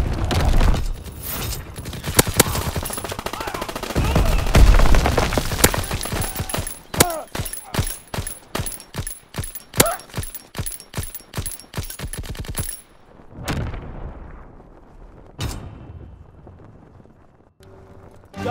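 Anti-aircraft guns in Call of Duty: WWII fire a long, loud, rapid run of evenly spaced booming shots, with a voice over the start and the firing giving way to quieter battle noise.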